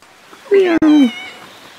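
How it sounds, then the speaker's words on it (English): A single drawn-out meow, loud and close, with a brief break in the middle, standing alone over a quiet background. "House comes with a ready built-in cat."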